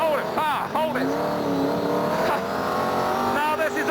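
BriSCA F1 stock car with a 650-horsepower engine revving hard and spinning its wheels, a loud close roar with rising and falling pitch sweeps and squealing tyres, with someone talking over it.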